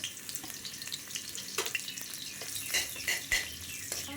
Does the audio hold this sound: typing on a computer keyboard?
no